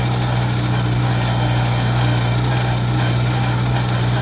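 A little Farmall Cub tractor engine runs flat out in third gear, a steady close drone with a strong low hum and even rumble, no voices.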